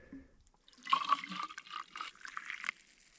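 Boiled water poured into a warm water bottle at an off-grid homestead, a close splashing fill lasting a couple of seconds with a rising gurgle, no voices.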